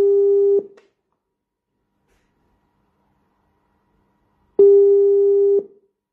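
A WhatsApp call rings out as two identical electronic tones, each lasting about a second, separated by roughly four seconds of silence, clear and close.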